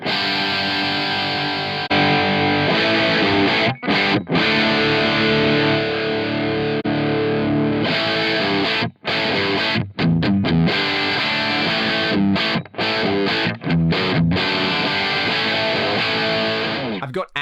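A distorted electric guitar played through a Two Notes Captor X reactive loadbox with a simulated 421 microphone, dense saturated chords and riffs ringing loud and steady, broken by brief silent stops between phrases.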